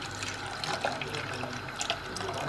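Coconut milk made from powder is poured into a cooking pot for a Kerala ash gourd olan, giving a soft, steady liquid splashing with a few small gurgles.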